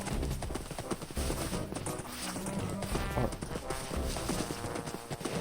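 A horse in the video game Minecraft clip-clops along in a steady, continuous run, its hoofbeats loud and close amid a busy layer of game sound.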